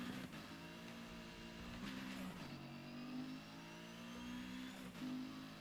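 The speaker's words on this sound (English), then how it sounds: "I like the sound of this new engine a lot." Racing car engine in the video game NFS Heat, a steady loud drone with shifting pitch and brief revving surges, heard alone without voices.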